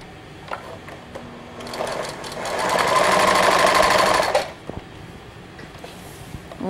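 A sewing machine stitches a cosmetic bag in one steady, loud burst of roughly three seconds in the middle, with quieter handling clicks and rustles before and after.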